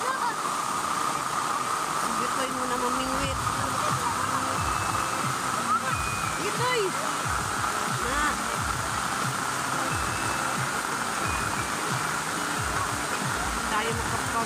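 Strong river current rushing in a constant loud roar, with people talking over the water and occasional honking bird calls.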